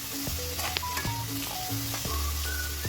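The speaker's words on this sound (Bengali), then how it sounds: "নুন দিয়ে ভালো করে এটাকে 2 থেকে 3 মিনিট ভাজবো, যতক্ষণ না পেঁয়াজটা নরম হয়ে যায়।" Chopped onions frying with salt in a pan, a steady close sizzle broken by several clinks and scrapes of a spatula stirring.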